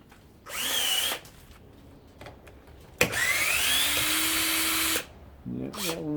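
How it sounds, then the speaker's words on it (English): A powered nut driver working on a stubborn fastener, whirring in two bursts separated by a pause, the second longer and rising in pitch as it spins, with a short third burst at the end. "I have a nut driver strictly for that."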